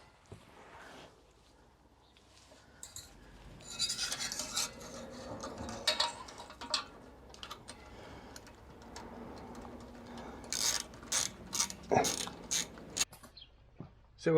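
Metal clicks and ratcheting while tightening a fitting to mount an Adamesh stage 2 exhaust on a Jaguar V8, faint scattered tool clinks and rattles in bursts, fairly close, with no steady rhythm.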